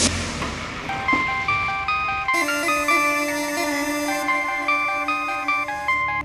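A telephone rings with a bright, tonal electronic melody, the repeating ring pattern loud and close with no voices over it.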